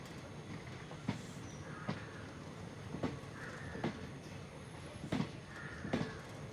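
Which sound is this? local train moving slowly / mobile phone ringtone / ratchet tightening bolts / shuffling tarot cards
local train moving slowly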